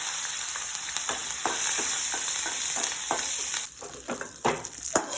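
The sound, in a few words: tempering curry leaves and dried chillies sizzling in a pan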